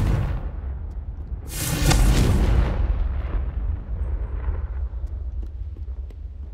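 A Confringo fire spell bursts in the game Hogwarts Legacy: a loud, booming explosion swells after a moment, then rumbles and fades away over several seconds.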